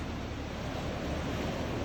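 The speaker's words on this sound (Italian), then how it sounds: "il suono delle onde sembra rallentare" Sea waves at Porto Paglia, Sardinia, a continuous dense roar of surf heard close and steady, with no voices.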